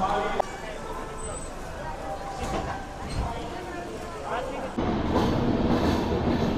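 Rumbling interior noise from the 12731 Tirupati–Secunderabad biweekly superfast express with LHB coaches, heard from a sleeper coach, with steady rail clatter and muffled background voices, getting noticeably louder near the end.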